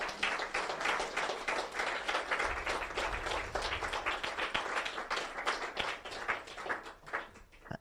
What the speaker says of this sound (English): Can you please give her a big hand of applause?